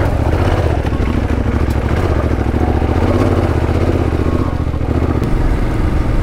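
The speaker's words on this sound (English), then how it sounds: "this is just a really easy bike to ride well" Yamaha Tenere adventure motorcycle ridden on a test drive, its engine droning loudly and steadily up close with a rough, rumbling texture throughout.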